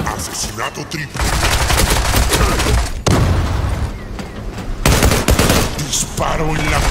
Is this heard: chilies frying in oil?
no